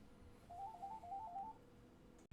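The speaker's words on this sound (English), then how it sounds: "Oh, there's the phone again." A telephone rings with a brief warbling electronic trill, faint and in the background, alone without talk.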